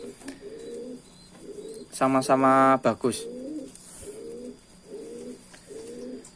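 Soft, repeated pigeon coos recur at a steady rhythm, with a brief louder burst of a voice speaking in the middle.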